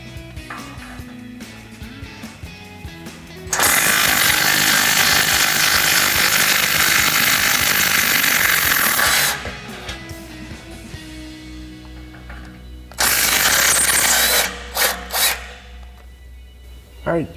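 A power tool with a 14 mm socket removes factory exhaust bolts on a Toyota Tundra, a loud close whirring burst of about six seconds, a short pause, then a shorter burst and a few quick pulses.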